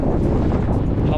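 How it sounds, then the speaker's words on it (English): A strong gust of wind at the Great Salt Lake buffets the microphone with a loud, continuous low roar that does not let up for the whole moment. "how much wind is coming when it gusts."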